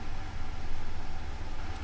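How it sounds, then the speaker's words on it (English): Street traffic noise heard from inside a parked van: a steady low rumble and broadband hiss of passing vehicles, continuous and moderately loud, with no speech. "I apologize for the noise, because I'm in my van, man, and there's all these street sounds"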